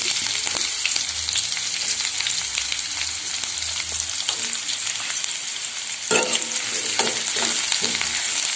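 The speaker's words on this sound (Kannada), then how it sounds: "ಸಾಸಿವೆ ಜೀರಿಗೆ ಚಟಪಟ ಮೇಲೆ ನಾವು ಹೆಚ್ಚಿಟ್ಕೊಂಡಿರೋ ಕರಿಬೇವು ಈರುಳ್ಳಿಯನ್ನು ಇಲ್ಲಿ ಸೇರಿಸ್ತಾ ಇದ್ದೀನಿ" Curry leaves and chopped onion are added to oil already spluttering with mustard and cumin seeds, giving a dense close frying hiss with soft stirring taps and a louder burst near the end, no talk.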